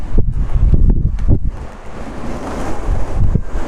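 Strong wind on a hilltop above Begur buffets the microphone with loud, gusty low roaring and rumbling, steady with sharper bursts, close and harsh.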